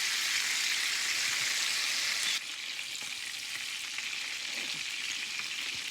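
Frikkadel meatballs fry in a pan with a dense, steady crackling sizzle that drops a notch in loudness partway through as the heat is lowered, continuing evenly without any voices.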